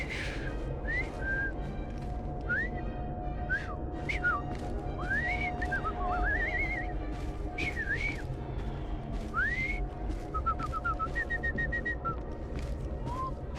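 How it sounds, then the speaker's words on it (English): Melodic whistling in the video game Assassin's Creed Syndicate, a series of short rising and falling whistled phrases over a steady ambient game background. "I've just learned to whistle."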